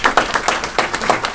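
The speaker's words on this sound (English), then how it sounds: "Let's give him a round of applause." Audience at a city council meeting clapping in a brief burst of applause, with distinct hand claps in an irregular rhythm, fairly close and loud.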